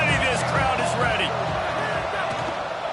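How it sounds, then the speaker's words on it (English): Stadium crowd in a college football video game roars steadily through a big third-down moment, a dense, constant wash of noise with a commentator talking over it. "this crowd is ready"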